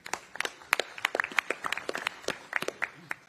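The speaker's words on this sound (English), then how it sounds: "Can we please get a round of applause for our brilliant MCs today?" Audience clapping for the MCs at a boxing press conference in Riyadh, heard as scattered, uneven individual claps rather than a dense roar, fairly close and moderately loud, with no talk over it.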